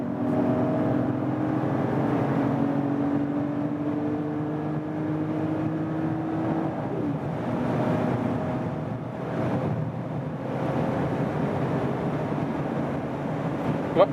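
A 2020 Mercedes GLE 450 in Sports Plus mode pulls hard at highway speed after a downshift, its engine note rising steadily through the gear beneath constant wind and road roar inside the cabin.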